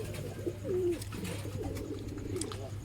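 Domestic racing pigeons coo close by, with a few soft, throaty rolling calls repeating over a low steady hum and faint background noise.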